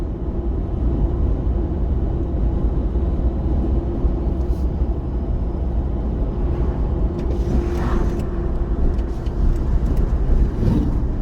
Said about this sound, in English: You can just hear that turbo whistling.